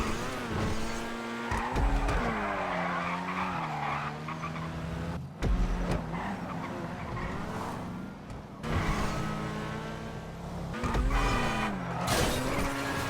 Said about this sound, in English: The handling on this car was really nice though.